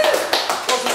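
Quiz audience clapping for contestants at an Irish counties quiz, three short bursts of applause that rise and fade quickly, with a voice speaking over the start.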